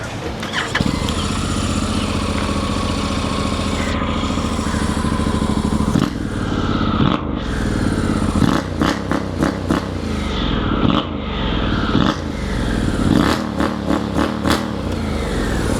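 A Honda motorcycle engine starts up and idles with a steady rumble, then is revved repeatedly in short, loud bursts close by.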